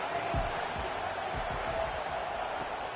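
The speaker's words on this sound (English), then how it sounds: "Decibels rising as the crowd gets behind this defense on third down." A steady wall of football stadium crowd noise on a third-down defensive stand, a dense, continuous roar under a commentator's voice.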